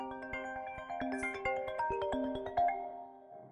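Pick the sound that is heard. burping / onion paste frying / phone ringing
phone ringing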